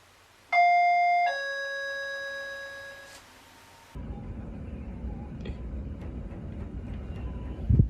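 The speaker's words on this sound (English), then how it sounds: "Suddenly, someone rings the doorbell in the middle of the night." A two-tone doorbell chime rings out clearly at night at a house in a quiet Japanese residential area, followed by a low rumbling background noise.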